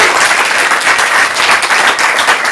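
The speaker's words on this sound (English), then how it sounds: "let's get a round of applause to get the show started." Applause at a stand-up comedy class showcase as the show gets underway, a loud, close, unbroken wall of many hands clapping, with no talk over it.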